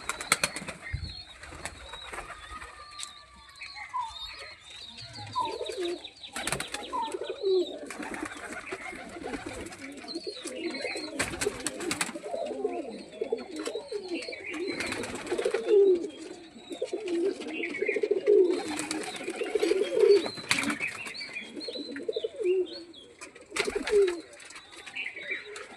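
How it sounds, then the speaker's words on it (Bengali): Several pigeons kept in individual cages coo steadily in low, throaty rolling calls, with occasional chirps and a brief flutter of wings, loud and close throughout. "এই সেটিং পায়রা প্রত্যেক খাঁচার মধ্যে আটকানো আছে"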